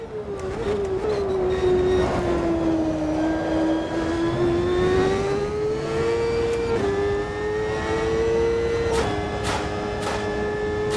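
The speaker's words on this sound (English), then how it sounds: "you can hear the bottom of the car hitting the track there" A race car in the Automobilista 2 racing game, set to a lowered ride height, drones with a loud, steady engine tone that rises and falls, while brief scraping bursts from the floor hitting the track break through near the end.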